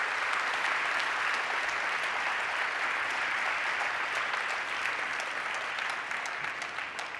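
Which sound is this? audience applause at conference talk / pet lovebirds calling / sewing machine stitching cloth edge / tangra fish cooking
audience applause at conference talk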